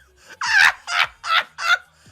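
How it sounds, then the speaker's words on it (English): A person burps during a casual talk-show stream, four short throaty belch-like bursts in close succession, fairly near and loud, with no speech over them. "I just burped"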